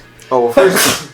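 A single loud, close sneeze bursts out right after a brief spoken phrase, part of a casual conversation among people talking together.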